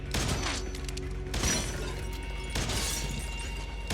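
Rapid pistol gunfire in a Better Call Saul episode, with sharp bursts of shots repeating over about four seconds and a dense, crashing texture that stays loud throughout.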